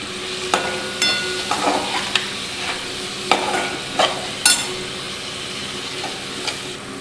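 Chopped onion with salt sautéed in a pan, a soft continuous sizzle broken by sharp scraping and clinking strokes of a spoon against the metal every second or so.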